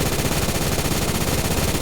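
Rapid automatic gunfire from a rifle in the shooter game Phantom Forces, a loud unbroken burst of evenly spaced shots filling the whole moment without pause.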